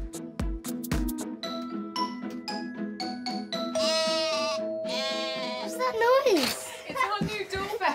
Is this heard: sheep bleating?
yes